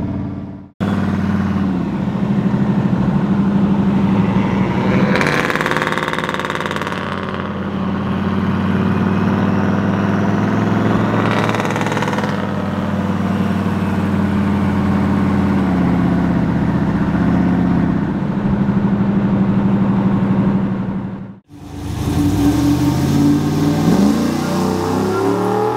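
A turbocharged Chevrolet Tahoe runs loud and close, its engine surging through long revs and hard pulls over a steady base, cutting out briefly before roaring back up again.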